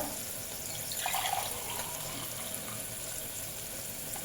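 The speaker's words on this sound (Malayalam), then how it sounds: "അപ്പം നമുക്ക് വെള്ളം ഒഴിക്കാം കേട്ടോ" Water pours steadily into a cooking pot while a vegetable biryani is being made, a continuous soft splashing stream with a brief brighter burst near the middle, heard close and alone without speech.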